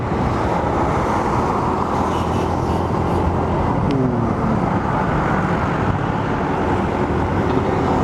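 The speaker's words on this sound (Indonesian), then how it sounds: "Wah, ada mobil nyalip." A car overtakes amid dense traffic on a busy stretch of the Pantura highway, a steady broad roar of engines and tyres close by that swells briefly mid-way as the vehicle passes.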